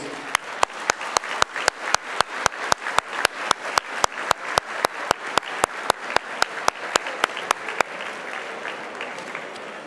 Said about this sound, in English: Let's please give them a very, very big round of applause.